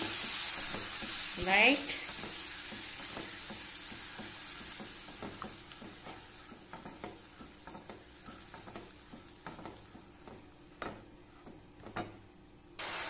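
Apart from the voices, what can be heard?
stirring curd into palak paneer curry in a pan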